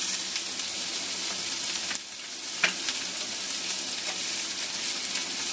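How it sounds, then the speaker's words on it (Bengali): Onion and capsicum fry in a pan with a steady, bright sizzle that holds throughout, broken by a brief dip and a couple of soft stirring clicks, with no talking. "পেঁয়াজটা একদম লাল লাল করে ভেজে নেবো পেঁয়াজটা।"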